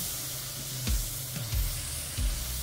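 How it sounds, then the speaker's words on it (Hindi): Spinach frying in a pan for a turnip and spinach curry, giving a steady, fairly quiet sizzle broken by three soft knocks or stirs. "पहले मैं पालक थोड़ी सी डाल के भून दूंगी,"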